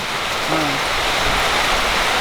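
Heavy rain pours steadily in a dense, even roar of hiss with no pauses, loud and close, and a brief faint tone rises briefly within it.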